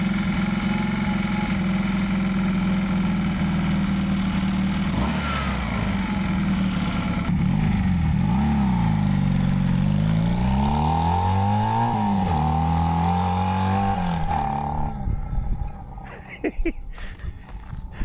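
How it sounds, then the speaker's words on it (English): A Honda CD200 Benly motorcycle engine runs loud and close, idling steadily before several rising and falling revs, then easing back toward idle. "Seems to be running all right now and returning back to idle."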